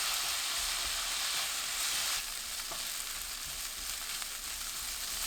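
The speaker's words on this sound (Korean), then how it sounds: "올리고당 반 큰술, 양조간장 1큰술 넣고 중불로 1분 볶아주세요." Crab sticks stir-fried in butter over medium heat with soy sauce and oligosaccharide syrup give off a continuous, even sizzle with a bright hiss, heard alone without voices.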